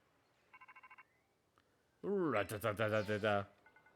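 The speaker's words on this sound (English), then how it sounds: "Rotom phone." Rotom phone in Pokemon Violet sounds a short burst of about five quick electronic ring pulses, followed by a louder stretch of chirpy game voice sounds.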